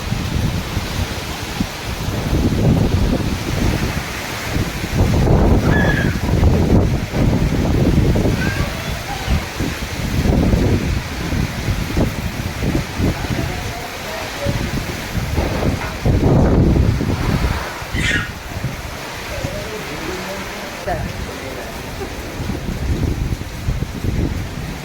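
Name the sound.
strong wind storm with rain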